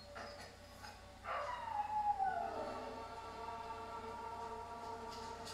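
A dog lets out one long, falling howl that rises out of a quiet background and trails off slowly, moderately loud and alone.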